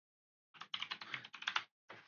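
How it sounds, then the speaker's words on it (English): Quick bursts of keystrokes as an aircraft call sign is typed into an air traffic control computer, with rapid clicks in short runs separated by brief pauses, close and clear in a quiet room. "So I'll start by typing in the aircraft call sign in stars."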